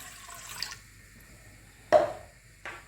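Water is poured into a stand mixer bowl with starter for maritozzi: a short trickle, a pause, then a louder splash and a brief final pour, close and fairly quiet.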